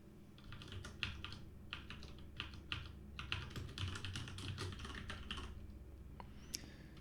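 Code is typed on a computer keyboard in quick bursts of keystrokes separated by short pauses. The clicking is quiet and close, with no talking.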